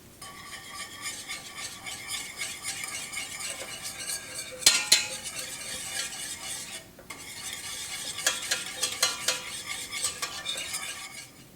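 A spoon scrapes and stirs butter and sugar in a pot on a stovetop at medium heat, making continuous close scraping and rubbing sounds with occasional sharper clinks against the pot.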